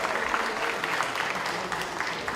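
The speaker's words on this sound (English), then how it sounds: "another round of applause for Mr." Applause fills a wedding reception for Neha and Pavan, a dense, steady wash of many hands clapping close by for a couple of seconds.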